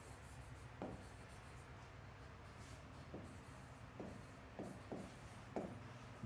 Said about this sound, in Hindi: चलिए मैं लिखता हूं